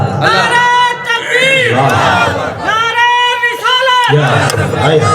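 A large crowd at a religious speech shouts slogans in loud unison, several rhythmic chanted bursts from many voices with brief pauses between them, close and forceful.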